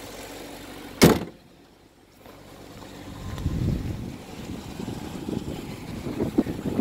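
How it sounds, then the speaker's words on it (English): A 1998 Corvette: a sharp thump like a door shutting, a moment of near silence, then a low engine rumble that builds steadily and holds, with no voices. "it's a good running engine"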